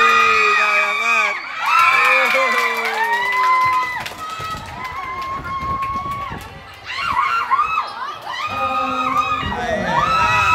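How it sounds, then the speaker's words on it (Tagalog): A crowd cheering for the Red Team at a volleyball match, with shouts, whoops and high children's voices rising and falling in bursts, and a commentator speaking over it. "Ang crowd ng Red Team."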